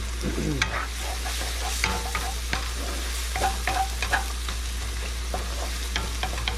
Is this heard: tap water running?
no